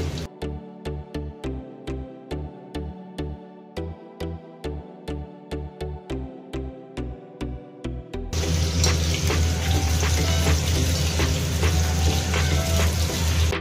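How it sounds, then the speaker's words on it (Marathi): A regular thumping beat repeats for several seconds, then gives way to a loud, dense sizzle of soybean chunks deep frying crisp in oil. "आपले सोयाबीन मस्त कुरकुरीत तळून झालेले."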